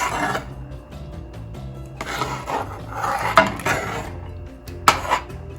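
A spoon scrapes and rubs around a pot of homemade porridge in uneven strokes, with soft wet scraping and occasional louder knocks against the pot's side.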